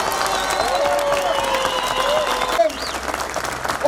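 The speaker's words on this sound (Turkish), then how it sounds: "Ve daha çok alkışlayın." A large crowd applauds steadily at a municipal workers' collective agreement celebration in Buca, Turkey, a dense continuous patter of clapping with faint voices and a whistle rising above it.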